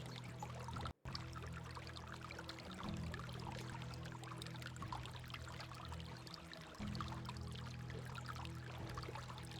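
A water skin being filled in the Medieval Dynasty video game, a steady quiet pouring trickle running continuously at low level, with a brief cut near the start.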